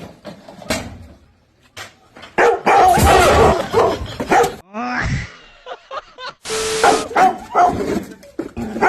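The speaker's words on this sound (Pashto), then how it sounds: "چې کله خیرات غواړي او پته درته نه وي چې په دې کور کې سپی دی" A dog barks in loud, close bursts, with yips and a short whimper among the barks, alongside a few thumps and knocks.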